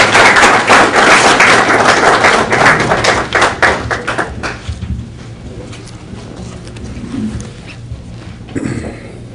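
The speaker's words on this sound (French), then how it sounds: "Il faut l'applaudir." Audience applause at the official launch ceremony of COGID USA, loud dense clapping that thins out after a few seconds into scattered claps and quiet room noise.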